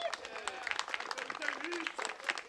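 Crowd applause rings out at a college softball game honoring a senior player, a steady wash of clapping with a few voices and cheers mixed in, fairly loud and continuous throughout.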